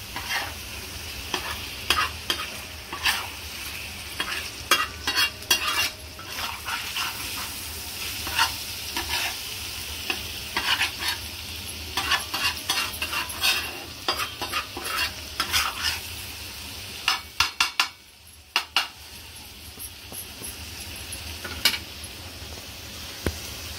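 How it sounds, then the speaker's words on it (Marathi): Liver (kaleji) fries on a tawa while a spatula stirs and mixes it, adding salt. Repeated scraping and clacking bursts run over a constant sizzle, with a brief quieter gap near the end. No one speaks. "मी थोडंसं मीठ टाकते वरून आणि परत एकदा मिक्स करून घेऊया."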